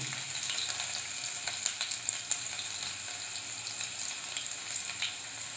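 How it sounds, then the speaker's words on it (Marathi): Crushed garlic and green onion tops fry in a hot pan, giving a steady close sizzle with small pops and crackles throughout, no voice over it. "चांगलं परतून घ्यायचं।"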